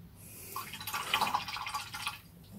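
A paintbrush is swished and rinsed in a pot of water while painting Rumbleslam miniatures, giving soft, continuous watery sloshing and dripping up close for a couple of seconds before it tapers off.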